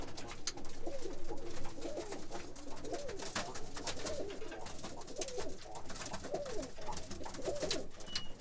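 Roller pigeons coo repeatedly in soft, rhythmic phrases at a feeding area, a steady run of low calls over a constant background hiss, with no talking.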